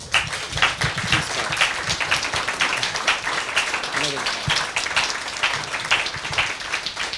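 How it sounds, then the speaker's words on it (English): An in-person audience at a talk on Paris gives a round of applause: dense, sustained clapping of moderate loudness throughout, with scattered murmurs and a brief voice underneath. "Can we have a round of applause,"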